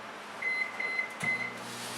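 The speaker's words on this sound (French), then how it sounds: "Je vais le mettre dans le micro-ondes. Puis je vais commencer avec un 20 secondes." Microwave oven running while chocolate in a bowl melts, a steady low hum with a faint high whine and a slight shift in pitch partway through, close and alone.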